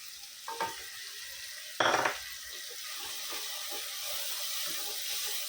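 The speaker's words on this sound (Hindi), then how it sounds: "दाल को अच्छे से भूनेंगे ये घी के अंदर।" Lentils with turmeric roast in ghee, giving a steady soft sizzle with a couple of brief louder scrapes of stirring near the start.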